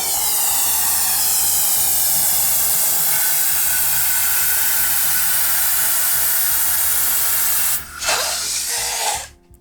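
A MECO ELEVERDE cordless air duster blows steadily into a punch balloon, a loud continuous rushing hiss running nearly the whole time before a brief dip and a short final burst near the end.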